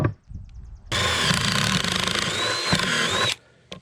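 Power drill boring pocket holes into wood for screws while building a custom barn door, one loud continuous whirring burst of about two and a half seconds, close up, with brief quiet handling before and after.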